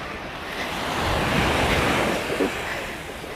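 Ocean waves wash onto the beach at Los Cristianos, Tenerife: one broad, loud surge of surf that swells and then recedes, mixed with gusty wind noise on the microphone.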